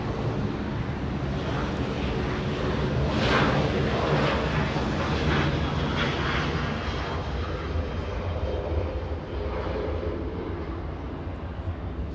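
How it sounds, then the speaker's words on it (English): A Southwest Airlines Boeing 737-700 jet at Los Angeles International Airport, a loud, steady, broadband engine roar that swells slightly and holds for twelve seconds with no voices. "Southwest Airlines 2230, flying to Salt Lake City, a 737-700."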